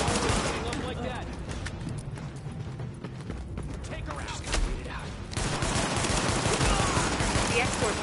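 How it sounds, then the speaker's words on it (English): Gunfire in The Division video game: sustained volleys of rapid shots roll through a loud firefight, growing denser in the second half. "The escort party's taking heavy fire from the roof."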